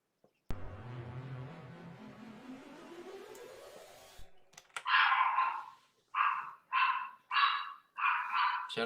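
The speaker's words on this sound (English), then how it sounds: "Oh yeah, sorry, that's my dog." A pet dog barks in several loud, close bursts with short gaps between them. The barks follow a rising, sweeping tone and a few faint clicks.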